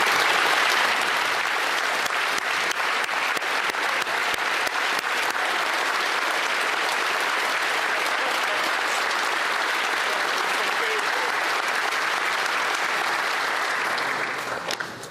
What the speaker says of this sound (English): Let us all give them a huge round of applause.